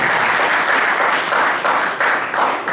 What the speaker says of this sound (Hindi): इनके नाम पे तो ताली मार रहे हैं